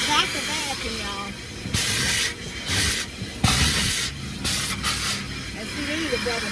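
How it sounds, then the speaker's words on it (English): Coin-operated car wash vacuum running with a loud, steady airy hiss that cuts in and out as the nozzle moves, while someone talks over it. "I got the vacuum, y'all."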